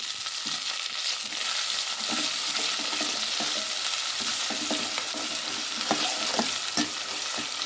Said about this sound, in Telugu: ఇది కొంచెం బ్రౌన్ కలర్ వచ్చేదాకా వేయిస్తాం ఫ్రెండ్స్.